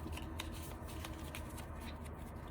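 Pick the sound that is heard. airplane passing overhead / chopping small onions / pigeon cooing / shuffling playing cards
shuffling playing cards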